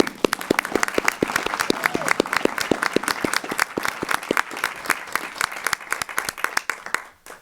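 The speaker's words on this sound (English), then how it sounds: "Give a round of applause, please." A round of applause at a school board meeting, many hands clapping in a crisp, fairly even rhythm with a low crowd murmur beneath, tapering off near the end.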